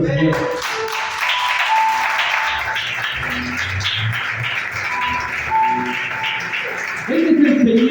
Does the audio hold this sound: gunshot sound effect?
no